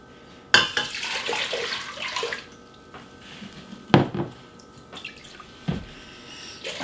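Tap water running into a 4-cup measuring cup in a home kitchen, a sharp start followed by a few seconds of splashing flow, then scattered clunks and knocks of the cup and sink.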